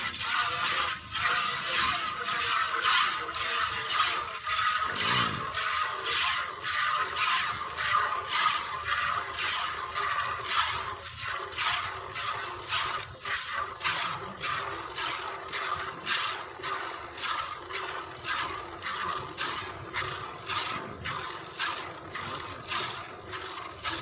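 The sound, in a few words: milk streaming into a pail while milking a buffalo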